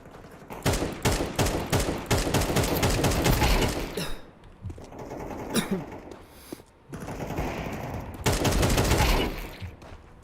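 Rapid gunfire from Counter-Strike 2, dense bursts of automatic shots crackling loudly and nearly continuously, with brief lulls and scattered single reports between volleys.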